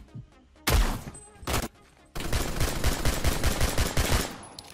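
Gunfire in the Roblox video game Phantom Forces: a couple of loud single shots, then a sustained rapid burst of automatic fire, close and dominant.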